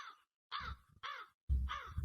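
Three or four harsh, nasal crow caws in quick succession, loud and close, each a short rasping call separated by brief silences.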